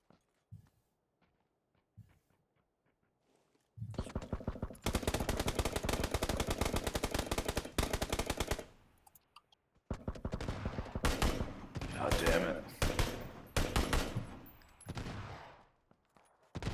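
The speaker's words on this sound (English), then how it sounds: "Guys shooting from on top of the hill." Sustained bursts of automatic gunfire in PUBG, loud and close, with a quiet stretch before the firing starts and a brief pause midway before the shooting resumes.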